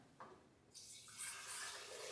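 Homemade beet juice with ginger is poured into a container in a short, faint stream of liquid that builds into a steady splashing trickle.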